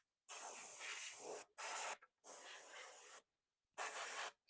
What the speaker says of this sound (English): Blow a little dust off everything here.